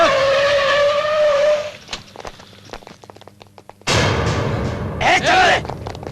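A car in an action film speeds up and skids on the road, with a loud engine roar, a quieter stretch of scattered knocks, then a sudden burst of tyre squeal near the end.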